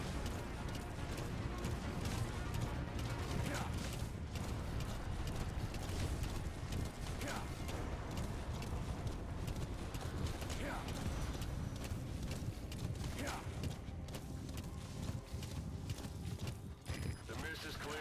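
Horse hooves clip-clop in Metal Gear Solid V during a mission, steady footfalls under a constant wash of game noise and music, with a few brief whinny-like rising tones.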